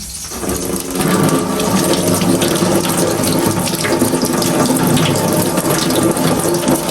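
Running water pours steadily and loudly over home-grown onion flowers as they are rinsed under a tap.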